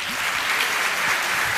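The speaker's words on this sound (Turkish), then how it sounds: "dev bir alkış hak ediyorlar" Steady, dense applause from an audience fills the whole short stretch at an even, fairly loud level, with no voices breaking through.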